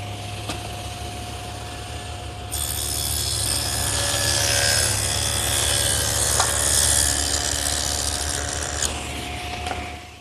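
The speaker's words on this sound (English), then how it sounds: "take our legs and run a groove between the 2 mortises so that it'll accept our panels" A table saw with a dado head cuts a groove between the mortises in a wooden chest leg. The motor hum is followed by a louder, steady cutting whine that lasts about six seconds and then drops back to a spinning hum.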